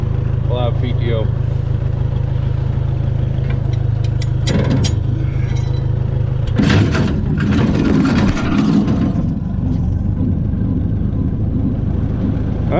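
A 300 Utility tractor runs with a bush hog mower raised, no live PTO, its steady low engine drone continuous and loud, with mechanical clanks and a rattling burst partway through.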